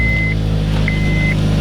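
A car engine idles steadily at close range with a continuous low hum, while a high electronic chime tone sounds twice.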